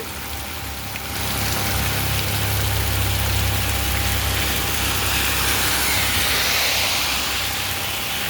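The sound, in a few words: rain falling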